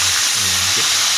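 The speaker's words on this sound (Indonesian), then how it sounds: "Ini menggoreng nih, waktunya menggoreng." Catfish frying in a pan of hot oil gives a loud, steady, dense sizzle throughout, with a faint tonal murmur briefly underneath.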